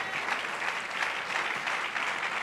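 Church congregation applauding steadily during an Easter service, a dense, sustained clapping that holds at even loudness for the whole stretch with no talk over it.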